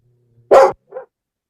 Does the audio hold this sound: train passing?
no